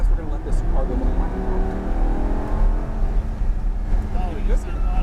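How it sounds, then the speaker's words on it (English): A car engine drones steadily at close range on a racetrack as another car passes the Lamborghini Huracán LP610-4, with a continuous roar and slowly shifting pitch and no break in the sound. "Lift off the gas. We're going to let this car go by."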